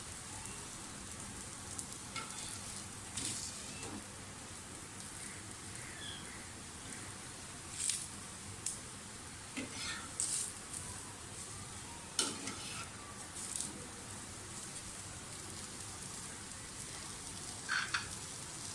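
Besan-coated bread toast browning in a pan gives a steady, fairly quiet sizzle with occasional crackles and a few sharper pops, no voices over it.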